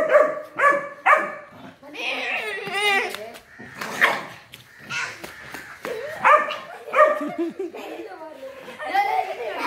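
Several Labrador and Pomeranian dogs bark in quick bursts nearby, with yelps and whimpers mixed in and people talking and laughing between the barks.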